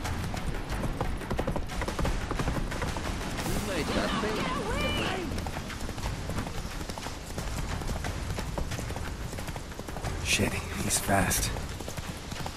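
Roach the horse gallops across Witcher 3 terrain with rapid, rhythmic hoofbeats clip-clopping close up. Tense shouted voices cut in over the running hooves.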